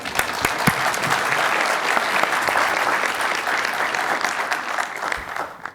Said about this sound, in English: Let's welcome Judge Ruiz and the panel with a round of applause.